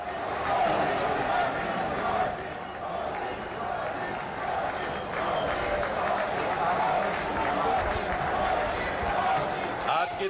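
Sustained applause and crowd noise fill a political rally in India welcoming Prime Minister Narendra Modi, a dense continuous clatter with an announcer's voice speaking over it.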